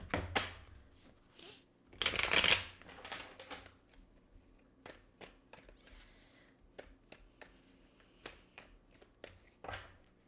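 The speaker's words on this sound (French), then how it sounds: "Je vais aller chercher 2 cartes d'ici et 2 cartes des Mystic Moon." Oracle cards being shuffled for a reading, a sharp riffle burst early on followed by soft, scattered taps and card flicks, close and quiet with no talking.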